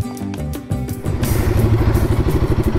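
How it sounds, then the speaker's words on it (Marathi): A motorcycle parked at a mountain homestay near Leh in Ladakh rumbles nearby, its engine rising to a steady, throbbing, pulsing note after a brief clattering start. "आणि ही आमच्या मोटरसायकल."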